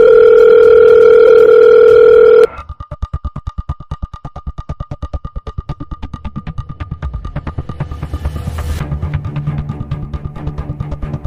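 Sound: telephone dial tone

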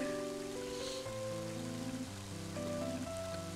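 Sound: rain falling in the video game Mother 3

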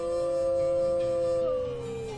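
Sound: black wolf howling in Yellowstone

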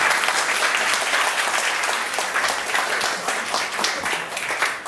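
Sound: audience applauding warmly

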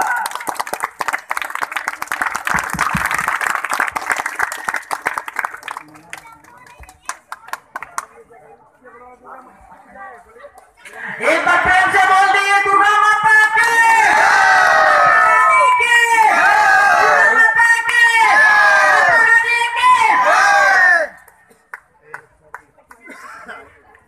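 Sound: audience applause and cheering welcoming Pappu Verma

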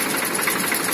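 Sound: Powertrac 455 tractor engine running, 2008 model

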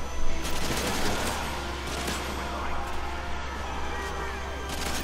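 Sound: gunfire in video game Modern Warfare 3

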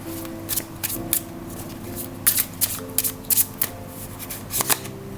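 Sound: shuffling tarot cards

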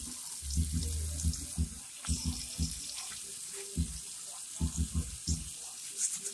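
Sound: hot water running from a tap while washing hands

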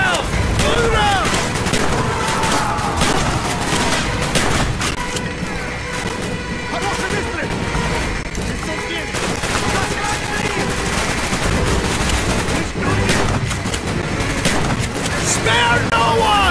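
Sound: gunfire in the Call of Duty Black Ops video game

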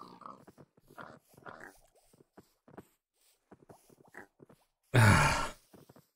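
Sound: pigs grunting in a video game

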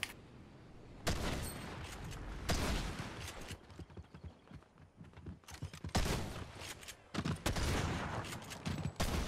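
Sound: shotgun firing in video game Fortnite

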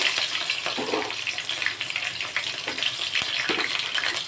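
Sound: green chillies frying in mustard and cumin tempering

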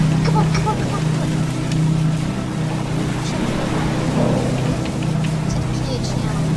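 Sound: ship propellers running in a HMHS Britannic video game

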